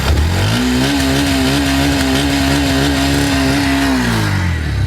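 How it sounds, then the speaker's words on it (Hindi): A Bajaj Pulsar NS125 motorcycle idles steadily right after a kick start, a close, even engine hum that rises slightly and holds through the whole stretch. "ऐसे आप धीरे से किक मारेंगे, गाड़ी स्टार्ट हो गई है।"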